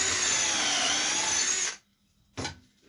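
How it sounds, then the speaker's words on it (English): A power drill whirs steadily, driving a pocket hole screw into wood for a side post of a large wooden wishing well planter, then stops abruptly, followed by one short burst. "I'm going to attach these with a pocket hole screw"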